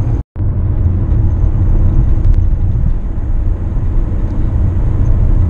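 A plug-in hybrid car cruises at 100 km/h on a fairly flat road, heard from inside as a steady, loud low-frequency road and engine rumble with no talking.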